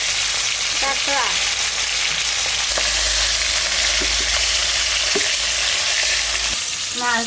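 Koi fish sizzle in hot oil over a village cooking fire, an even, close, continuous crackle with small pops and the occasional faint voice in the background.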